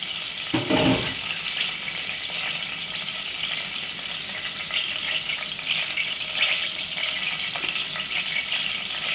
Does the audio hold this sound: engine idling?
no